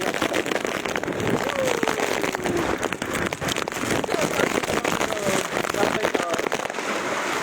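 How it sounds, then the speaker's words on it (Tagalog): Dense, steady roar of heavy rain with strong gusting wind during a flood at Matabungka, loud and close, with faint voices buried underneath. "Lakas ng ulan, super lakas ng hangin."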